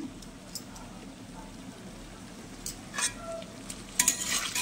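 Fish fry in hot oil in a pan, with a soft continuous sizzle and occasional scrapes and clinks of a stirring utensil that grow busier toward the end.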